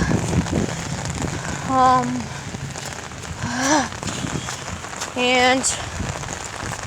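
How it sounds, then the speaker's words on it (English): Heavy rain drums steadily on an umbrella overhead, a dense, close patter that never stops, while someone speaks in short voiced bursts. "The umbrella is my only cover from all this rain."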